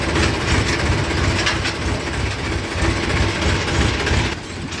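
A tractor engine gives a steady, loud rumble throughout with a low, chugging drone, dropping slightly in level near the end.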